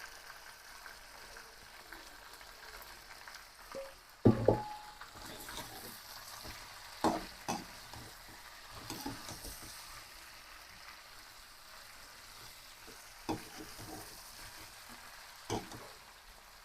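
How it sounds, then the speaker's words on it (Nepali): Ground spices fry in a pan of chicken gravy, a soft steady sizzle broken by a few scattered scrapes and knocks of stirring, quiet and close. "यसरी पिसेको मसला हाल्ने हो"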